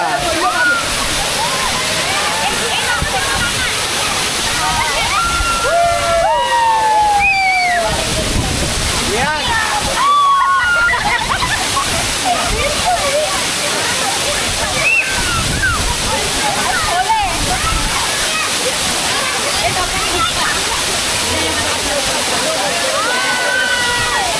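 The Devgad waterfall in the Konkan monsoon roars in a loud, steady wash of rushing, splashing water, with people talking and calling out over it throughout.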